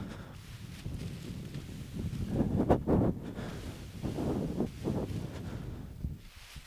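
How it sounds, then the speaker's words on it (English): Gusty wind rushes and buffets outdoors during paraglider ground handling in strong wind, a steady low roar with louder surges in the middle, heard close at the microphone with no talking. "The wind was blowing that direction, it's now coming behind me, it's kind of blowing this way"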